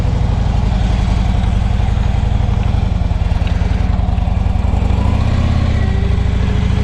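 A converted Harley-Davidson Road King fitted with a tilting front end rumbles loudly and continuously while being ridden, its engine throbbing steadily with a slight shift in pitch near the end.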